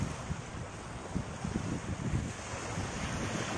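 Waves washing onto a shore at low tide while people are out shore fishing, a continuous rushing surf sound buffeted by gusts of wind against the microphone.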